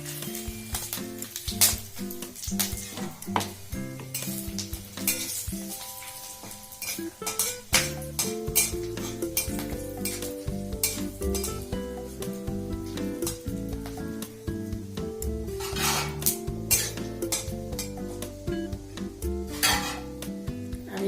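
Oil in an iron pan sizzles and crackles steadily as asafoetida, dried chillies and bay leaf are tempered for tomato chutney, with a metal spoon clinking and scraping against the pan throughout.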